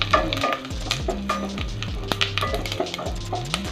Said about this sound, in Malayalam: ഇഞ്ചിയും വെളുത്തുള്ളിയൊക്കെ പച്ചമണം മാറുന്ന വരെ ഒന്ന് വഴറ്റി കൊടുക്കാം